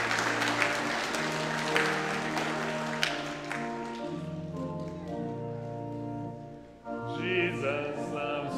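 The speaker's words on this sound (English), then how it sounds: "Let's give them a round of applause." A church congregation applauds during a Sunday worship service, a sustained burst of clapping that fades as organ or piano chords carry on underneath and then swell again.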